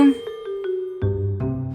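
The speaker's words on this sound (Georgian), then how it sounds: "ზარი." A school bell rings a short chime, a few clear, loud tonal strikes close by that ring on briefly.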